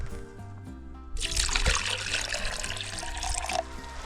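Muddy creek water is poured into a container to mix with creatine outdoors, a close, steady splashing trickle that swells after a quiet start and runs for a few seconds.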